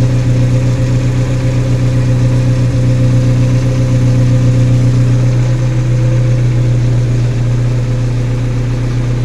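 A Volkswagen Gol with a CHT 1.6 engine runs steadily at idle, a loud continuous low hum with a slight dip partway through and no voices over it.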